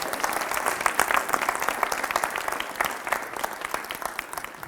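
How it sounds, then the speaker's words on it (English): A gym full of athletes claps loudly for a coach, a steady roar of dense hand claps that rises and holds through the whole stretch, with a few sharper claps standing out. "Everyone give him a round of applause, loudly."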